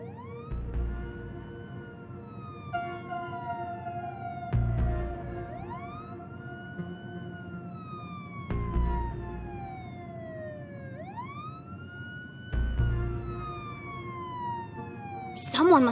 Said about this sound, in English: could hear police sirens in the distance.